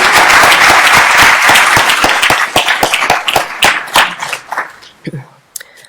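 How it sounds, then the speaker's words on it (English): Loud, dense applause from an audience at an international honorary reception for award winners, sustained for several seconds before thinning into scattered individual claps and fading out. "How about another round of applause for our award winners?"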